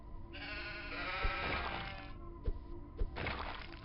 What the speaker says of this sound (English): Why killing my sheep?